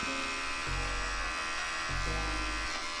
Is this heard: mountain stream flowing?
no